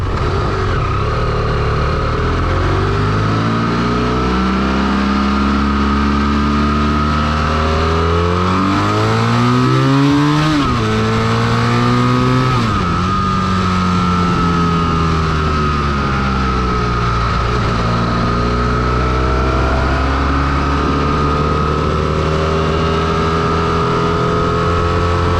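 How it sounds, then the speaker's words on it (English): A 2013 BMW F800GT sport tourer's Rotax twin-cylinder inline engine runs steadily, then revs up and settles back, a close, continuous mechanical drone with rising and falling pitch. "It's a Rotex twin-cylinder inline motor."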